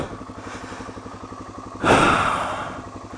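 A dual-sport motorcycle's engine thumps in a fast, even rhythm on a trail, close and steady, then revs up sharply near the end as it heads into a hill climb.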